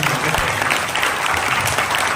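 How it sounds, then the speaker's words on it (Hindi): Dense, loud applause from a theatre audience for the performers of a stage play, continuous and close throughout. "एक और जोरदार तालियों से हम कलाकारों को"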